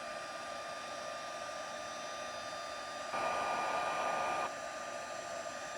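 Heat gun melting embossing powder on a handmade Christmas card, blowing with a steady, close whirring hiss that grows louder and brighter for about a second and a half midway before settling back.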